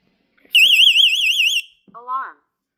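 A Vivint home security system gives a loud warbling electronic alarm tone for about a second, then a short synthesized voice prompt follows, close and clear indoors.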